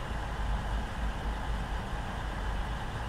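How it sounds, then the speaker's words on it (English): Steady low diesel rumble from an old train engine in Train Simulator 2019, a continuous droning hum at even loudness throughout, with no voices. "I just like an old diesel noise"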